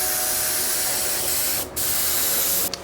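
Spray gun laying down a second orange coat on a custom panel, a loud, close continuous hiss that cuts out briefly twice before resuming, with no voices.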